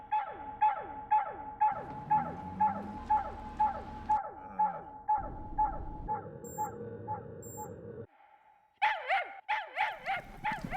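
A dog barks in a quick, regular series of sharp yips, then pauses and resumes with louder, brighter barks, set against music in a Japanese video game trailer.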